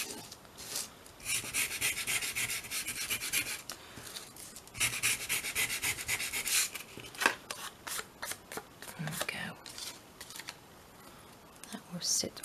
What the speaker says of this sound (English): Now I'm just going to sand this down just along the edges.